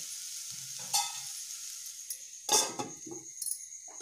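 Urad vegetable steams in a covered pan on low gas, a faint steady hiss under a few clinks and knocks of a lid and utensils.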